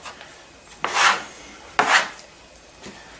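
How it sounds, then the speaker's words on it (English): Sticky psyllium husk French bread dough is kneaded by hand, giving soft, close rubbing pushes in a slow rhythm, about two or three strokes, with no talk. "Add a little bit more flour and then just start to knead it."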